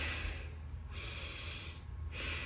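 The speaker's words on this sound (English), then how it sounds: "Most people breathe from their nipple line up, like their upper chest." Shallow upper-chest breathing demonstrated as quick breaths that start and stop twice, close to the mic, with no talking.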